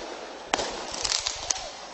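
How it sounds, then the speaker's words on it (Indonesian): Tear gas launcher shots fired by police and municipal officers during a neighborhood clash, a sharp booming report followed by several scattered pops and bangs at a distance, under a steady crowd-noise hiss. "dentuman tembakan gas air mata dari aparat kepolisian dan Satpol PP untuk meredam amarah warga"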